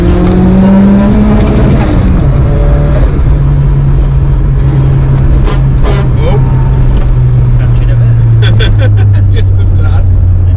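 Modified Ford Sierra RS Turbo, a Series 2 with over 300 bhp, accelerating hard under boost, its engine note climbing loudly through the revs, with brief whooshes and a voice speaking over it.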